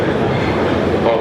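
A London Underground Piccadilly line train runs with a dense, steady rumble and rattle, close and loud, throughout a short stretch.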